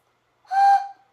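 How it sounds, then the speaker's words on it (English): A single short whistle blast, clear and close, lasting about half a second against silence. "Whistle."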